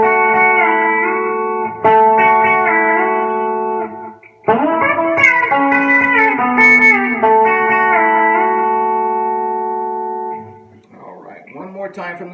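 Electric guitar with a B-bender plays a lick through bender positions 2, 3 and 4, sustained notes bending and ringing out over about twelve seconds, close and fairly loud, with a quieter scratchy passage at the end.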